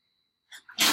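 A single sharp sneeze bursts out in a classroom during a pre-algebra lesson, brief, close and loud after a quiet lead-in with a short preparatory inhale.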